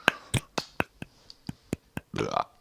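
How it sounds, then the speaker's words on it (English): Sparse, slow, polite claps ring out one at a time, evenly spaced, followed by a brief burst of quicker clapping. "That was a little bit of a golf clap."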